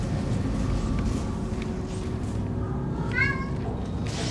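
A cat meows once, a short rising and falling cry late on, inside the Dead Space 2 space station game, over a steady low ambient rumble and hum.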